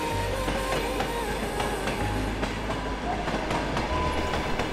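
Passenger train at Irkutsk station on the Trans-Siberian line, its carriages rumbling with steady low clatter and faint rhythmic clicks of wheels on rail, a continuous close background with no talk.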